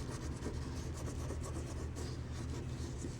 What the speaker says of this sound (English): I just put the cap back on the glue stick and then just rubbed it on there